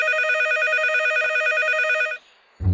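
A telephone rings in a steady electronic trill for about two seconds in a cartoon scene, then stops abruptly, followed by a brief low thump.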